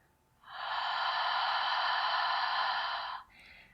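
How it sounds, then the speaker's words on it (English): A single long, breathy exhale through an open throat, hoarse and textured like fogging a mirror, held for about three seconds close to the microphone, then tapering into a softer trailing breath. "See if you can breathe with a little bit of texture. So almost like fogging up a mirror."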